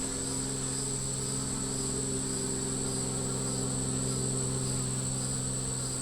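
Honeybees buzzing steadily at a hive being split into a single nuc box, a close, continuous drone with no talk over it.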